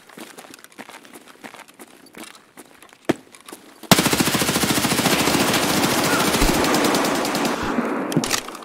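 Automatic gunfire in Escape From Tarkov, a long rapid burst of evenly spaced shots that runs for several seconds after a few scattered single reports and quieter game noise.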